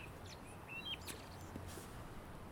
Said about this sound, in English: It sounds like those birds are real close